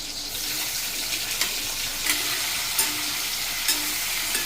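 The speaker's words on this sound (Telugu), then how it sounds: "నేను ఆయిల్ వేసి ఇందులో ఉల్లిపాయలు వేస్తున్నాను పచ్చిమిరపకాయలు వేస్తున్నాను అందులోనే ఈ ముక్కలన్నీ వేసేస్తున్నాను" Onions, green chillies and chopped vegetables frying in oil in a pan, a moderate continuous sizzle with a few soft scraping stirs and light clicks, no voices.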